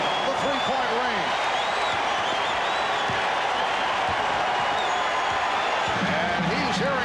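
Crowd in a basketball arena at the 1994 NBA Finals between the Houston Rockets and New York Knicks, a continuous loud roar of applause and cheering under a commentator's talk, with squeaking sneakers and a ball bounce coming through.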